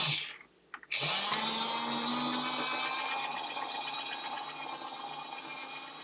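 Toy washing machine cleaning a beauty blender sponge in soapy water: a steady motor whir with churning, sloshing water runs continuously and close after a brief stuttering start, gradually easing slightly in loudness, with no talk.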